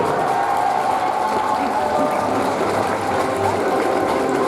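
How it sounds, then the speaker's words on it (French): Convention crowd applauding to welcome Simpsons voice actors, a dense continuous roar of clapping heard from within the audience, steady and loud throughout. "Alors les applaudissements fort"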